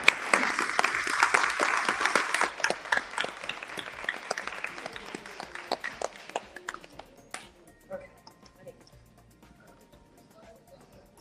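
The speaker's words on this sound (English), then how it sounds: "Another round of applause, please, for Kylan Robertson." Audience applause at a book conference for a writer, dense clapping for about two seconds that thins to scattered individual claps and fades out, with a few voices heard as it dies away.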